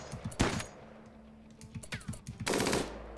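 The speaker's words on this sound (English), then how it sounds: "Oh, you have a minigun." A minigun in the video game RimWorld fires in short rapid bursts of sharp, clicky shots, one burst early and a louder one near the end, with sparse pops between, fairly quiet overall.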